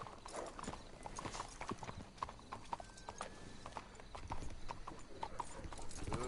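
Horse hooves clip-clop steadily on the ground in Red Dead Redemption 2, a rhythmic series of fairly faint, close footfalls with a brief whinny, amid quiet background game sounds.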